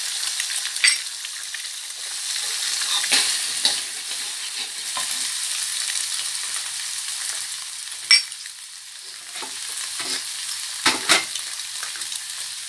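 Egg and shrimp fried rice sizzling in a pan while being stirred, a steady bright hiss of frying punctuated by occasional scrapes and clacks from the utensil.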